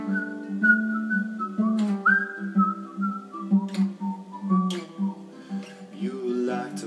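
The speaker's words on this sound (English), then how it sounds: "We all like to whistle our favorite tune." A person whistles a tune, its melody alone and steady at moderate loudness, with several sustained notes slurring and stepping between pitches over about seven seconds.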